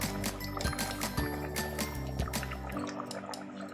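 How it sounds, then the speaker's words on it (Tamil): Thick ground coconut paste poured into simmering mutton kurma gravy, giving soft wet plops, drips and squishy liquid sounds close up over a steady low hum from the stove, without talk. "நல்லா இதுக்கு இந்த குழம்புல ஊற்றிக்கலாம்."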